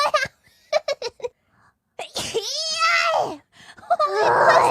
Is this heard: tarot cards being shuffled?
no